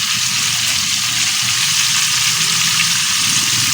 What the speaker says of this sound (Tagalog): Luto na yung fried chicken natin guys.